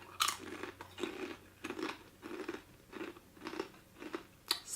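Someone crunches and chews a sticky, syrup-coated Korean snack, close and quiet, with a steady series of about eight crisp bites and chews spaced roughly half a second apart, no talking.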